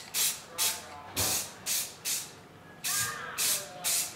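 Light coats of primer are sprayed from about ten inches onto a cafe racer motorcycle frame, heard as eight short hissing bursts in an uneven rhythm, close and fairly quiet.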